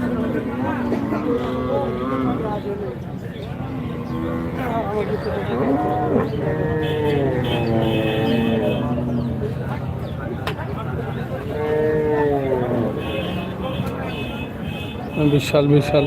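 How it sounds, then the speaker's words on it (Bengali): Crossbred bulls moo repeatedly at a busy Rajshahi city cattle market, their long, deep calls rising and falling over a constant murmur of crowd voices. "ক্রসের ষাঁড় কিন্তু এই মুহূর্তে আমরা দেখতে পাচ্ছি"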